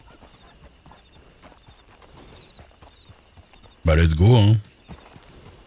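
A black Shire horse's hooves clip-clopping softly and steadily, under nearby chatter, with a loud voice briefly rising over them.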